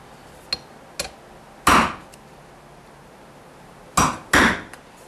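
Sharp percussive knocks as holes are punched in gasket material, a few light taps followed by heavier thuds, irregularly spaced, close by with quiet gaps between them.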